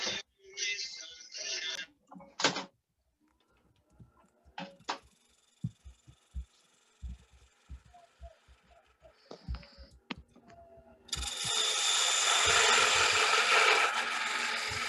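A wood lathe squares off the end of a turning blank, with bursts of scraping cutting noise, scattered knocks and taps in between, then a sustained loud rasping cut toward the end.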